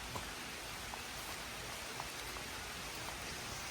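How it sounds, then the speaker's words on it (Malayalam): Light rain drizzles at an eco park in Wayanad, a soft, faint, even patter and hiss with a few scattered drop ticks, no voices. "മഴ ചാറി തുടങ്ങിയിട്ടുണ്ട് ചെറുതായിട്ട്"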